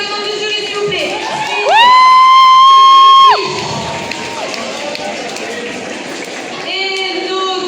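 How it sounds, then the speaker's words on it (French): Large crowd at a Japan-themed fan convention cheering and whooping for the jury, loud shouts and a sustained high scream rising over the noisy hall, with voices throughout. "On applaudit encore les membres du jury, s'il vous plaît."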